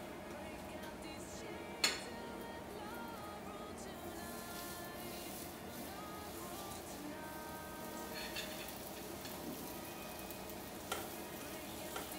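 A stuffing waffle cooks in a greased waffle pan with a soft, steady sizzle and crackle, broken by a few sharp clicks and taps, and no speech.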